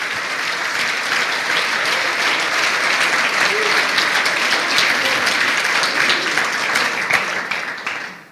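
Sustained applause from a church congregation during a worship service, a dense steady wash of many hands clapping at even loudness for about eight seconds before fading out at the end.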